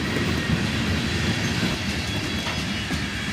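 The tail end of a long freight train led by an SD70MAC locomotive rolls past nearby, a loud continuous rumble with rhythmic clacking of wheels and faint squeals, no voices.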